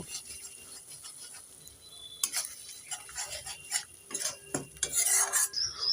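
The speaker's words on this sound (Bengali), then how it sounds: "এবার নেড়ে চেড়ে মশলাটাকে আমি তিন চার মিনিট ভালো করে বসে নেব" A spoon stirs spices with ground turmeric in a pan while spinach and soybean curry is being made, with light scraping and clinking strokes that grow busier and louder toward the end, with no voices.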